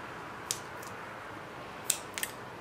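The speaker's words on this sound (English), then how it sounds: "And then just snip those off." Scissors snipping the backs off plastic skull rings, a few crisp isolated snips at close range against a quiet background, no talking.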